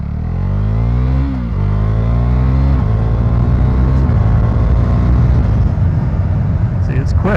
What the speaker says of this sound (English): It's like the classic thumper sound of this bike.